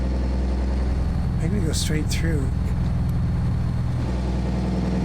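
A truck engine idles in American Truck Simulator with a steady, low, droning rumble throughout while someone talks over it.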